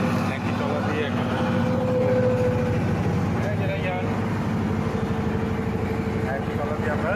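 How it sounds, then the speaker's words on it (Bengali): A trawler boat's engine runs steadily on a river crossing between Humayunpur and Patuli ghats in Kishoreganj, a constant droning hum with a faint whine, while a person talks over it throughout. "একই ট্রলার দিয়ে আমরা চলে যাচ্ছি"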